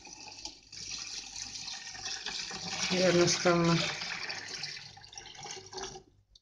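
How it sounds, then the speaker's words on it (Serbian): Cold water, about seven litres, is poured from a pot into another vessel while elderflower syrup is being made, a steady gushing splash that swells in the middle, with someone speaking over it. "sada ću ovdje naliti 7 litara hladne vode."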